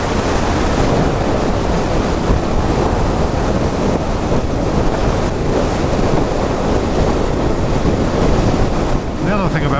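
Strong wind roars and buffets continuously while riding a motorcycle into a headwind, a loud, steady rushing blast close to the microphone with no pauses.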